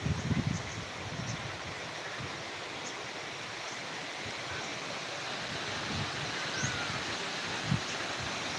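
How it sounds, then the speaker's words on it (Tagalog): Strong typhoon wind rushing through garden plants and wing bean leaves, a steady loud roar of rustling foliage and air with slight gusts and no talking. "Lakas ng hangin, no?"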